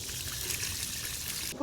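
Water trickles and pours steadily as a dehumidifier's collection tank is emptied, a soft continuous stream ending in a brief louder splash.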